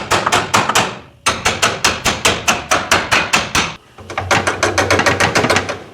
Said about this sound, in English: But we're gonna hammer this out,